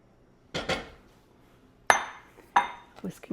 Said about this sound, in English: Let's scrape this bowl.